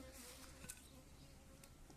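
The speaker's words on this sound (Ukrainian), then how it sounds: "бджола причепилась" A steady, close insect buzz hums throughout, with the droning tone of a honeybee hovering near a hive.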